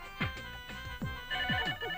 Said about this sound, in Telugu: టెలిఫోన్ ఎంతసేపటి నుంచి రింగ్ అవుతుంది?